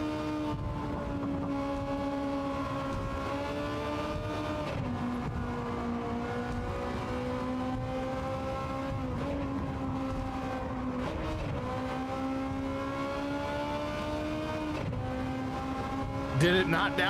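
A race car engine in the WRC rally game, a steady high-pitched droning whine that rises and dips with gear changes over the whole run, while a voice talks quietly underneath.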